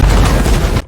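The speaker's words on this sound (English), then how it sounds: "suddenly, the bomb that Freddy had planted in the oil refinery exploded earlier than they had calculated" A bomb goes off at an oil refinery in a wartime scene, one loud, close, rumbling blast that fills the whole brief moment and cuts off abruptly.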